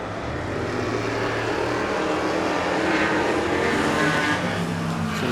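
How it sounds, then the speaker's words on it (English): Superstock race cars roar around a Wanganui oval track on a still night during a Grand Prix, a steady loud engine drone from the field filling the air without pause, no voices over it. "Beautiful sound these cars are making on a still Wanganui night"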